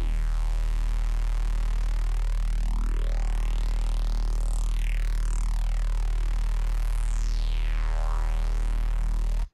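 A single sustained bass tone from a sampler in Ableton holds steady throughout, with sweeping, shifting harmonic overtones dancing above the constant low note, loud and uninterrupted.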